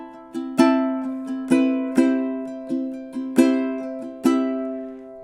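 A ukulele plays a measure of House of the Rising Sun, mixing plucked single notes with down strums. Clear, close, ringing attacks fall at an even, moderate triple-feel pace, with each note decaying before the next.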